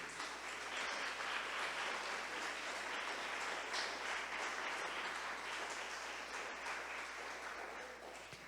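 A church congregation applauds Jesus during a Portuguese-language sermon, a dense, sustained roar of clapping that stays loud and even from start to finish with no voices on top.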